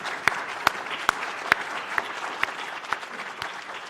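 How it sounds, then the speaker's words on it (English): Applause from an audience at a public event on health workforce well-being, a steady patter of many hands with several sharp louder claps standing out, moderately loud and sustained without talk. "Round of applause for them."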